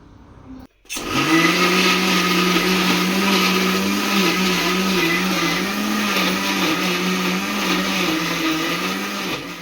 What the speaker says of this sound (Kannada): ಖಾರದ ಪುಡಿ ಎಲ್ಲನೂ ಒಟ್ಟಿಗೆ ಹಾಕ್ಕೊಂಡು ಸ್ವಲ್ಪ ನೀರು ಸೇರಿಸ್ಕೊಂಡು ರುಬ್ಕೊಳ್ಬೇಕು